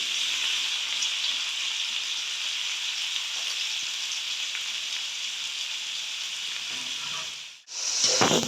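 Chopped onions sizzle and fry steadily in a hot oil-filled pan while cooking chicken curry, a continuous close hiss with faint stirring, briefly dipping near the end before resuming.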